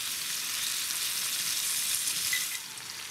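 Vegetables frying in grapeseed oil, a steady, loud and close sizzle that holds for about three seconds and eases slightly near the end, with no voices.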